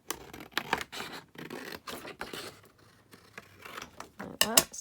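Scissors cutting down a sheet of paper for a crafting edge strip, a run of close, crisp snipping and scratchy slicing strokes in irregular bursts, fairly quiet, ending with a couple of sharper cuts.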